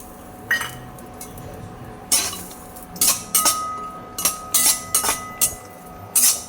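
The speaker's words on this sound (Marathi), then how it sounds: "आता खोबरे भाजून घ्यायचं" A spatula clinks and scrapes against a pan as dry coconut roasts for a spicy brinjal curry, making sharp intermittent metallic knocks and scrapes in uneven bursts over a quiet background.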